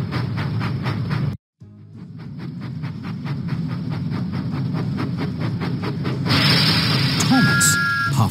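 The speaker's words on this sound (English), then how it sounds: "Thomas puffed proudly into Knapford Station." Thomas the Tank Engine chuffs along the track in the Lift Load & Haul kids' video game, a steady run of rhythmic puffs that brightens near the end, with a brief dropout early on.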